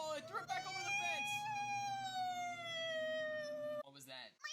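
A voice imitates a police siren in a long wavering wail that slides slowly downward for several seconds, loud and close, breaking off into a short burst of speech at the end.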